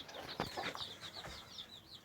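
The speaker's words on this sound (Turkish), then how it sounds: "Burada da gırk olmuş tavuğumuz var. Köy tavuğu." A broody village hen clucks softly in a series of short, repeated murmuring calls, faint and close, with a brief rustle partway through and no voices.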